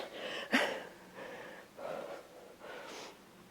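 Several audible breaths, a sharp snorting inhale followed by softer rhythmic exhales, taken by a woman in a strength workout core exercise with one leg hovering, close and fairly quiet with no talking.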